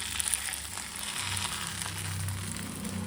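Holige flatbread frying in oil in a pan makes a steady, soft, close sizzle with a low hum of the stove beneath.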